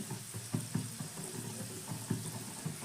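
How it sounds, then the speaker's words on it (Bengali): Snack pieces laid one by one into hot oil in a frying pan for crisp rainy-evening snacks bubble and sizzle softly, with a fairly quiet frying hiss and a few small thuds and clatters as pieces go in. "এবার একে একে টিফিনগুলো তেলের মধ্যে আমি সাজিয়ে দিচ্ছি।"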